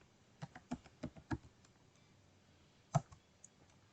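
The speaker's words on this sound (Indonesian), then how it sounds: "di sini kita akan ketik sintaksnya yaitu sudo su untuk login ke Ubuntu Linux-nya" Computer keyboard typing a login command and password on Ubuntu Linux, a few scattered quiet key clicks, then a louder cluster of keystrokes near the end, no talk.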